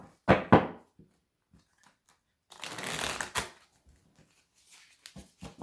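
Two short bursts of riffling tarot cards early on, then a longer shuffle midway, with scattered soft taps and rustles between; close and fairly quiet.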